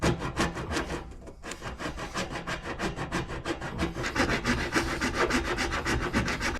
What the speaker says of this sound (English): I've got this raspy thing.